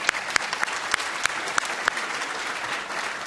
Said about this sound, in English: So let's have a round of applause for all of those presenters.